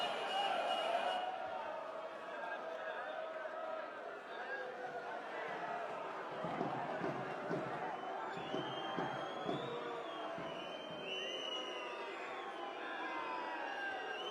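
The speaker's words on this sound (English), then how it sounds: "Crowd don't like it" Basketball arena crowd at an ASVEL versus Iberostar Tenerife quarter-final game, a steady loud roar of spectators with whistles and shouts, sharp ball bounces near the middle, and a commentator talking over the noise.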